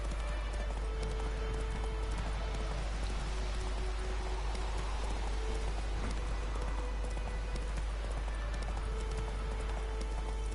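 Horse galloping in the video game The Witcher 3, a steady stream of soft clip-clop hoofbeats over a constant hissing background, with occasional tonal game sounds and no talk.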